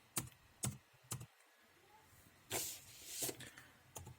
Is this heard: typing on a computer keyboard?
yes